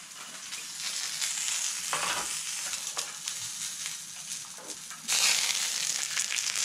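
Goose breast frying skin-side in its own rendered fat, a steady dense sizzle and crackle that swells louder near the end, with no voice.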